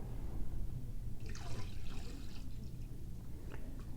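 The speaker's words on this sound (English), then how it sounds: "I'm going to get some cold water and I'm going to fill it the rest of the way up until it does completely cover the turkey" Cold tap water runs steadily into a container holding a turkey set out for brining, a soft continuous trickle and splash throughout at moderate level, with no talking.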